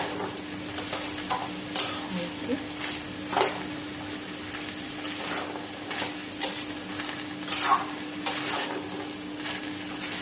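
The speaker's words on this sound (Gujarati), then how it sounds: "આપણે એને હવે મિક્સ કરી દઈશું અને ધીમી આંચે એને આપણે શેકાવા દઈશું" Potatoes and peas for an aloo matar samosa filling are stirred in a pan over a low flame, giving a steady gentle sizzle with recurring scraping sweeps of a spoon, close and without talk.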